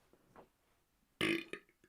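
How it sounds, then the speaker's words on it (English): A loud burp erupts close to the mic during a podcast, one strong belch followed by a couple of short trailing bursts, after faint quiet talk. "First burp of the podcast."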